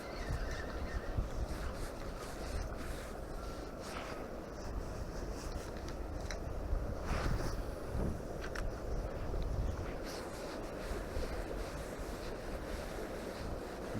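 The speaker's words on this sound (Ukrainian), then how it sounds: "вітер трохи мішає закидати" Wind gusts buffet the microphone in a constant low rumble, rising and falling, with faint watery sounds beneath, on the Inhulets river during spin fishing.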